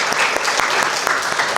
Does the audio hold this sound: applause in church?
yes